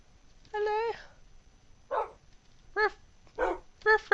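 Dogs in the Minecraft video game give a series of short, high yipping barks, one longer bark followed by four quick ones at uneven intervals, clear and close against a quiet background.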